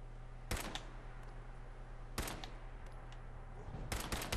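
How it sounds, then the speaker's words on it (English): Gunfire in the video game Fallout 4, with three short bursts of sharp cracks spaced apart over a steady low background hum, moderately loud and close, no talking. "Why did I shoot him?"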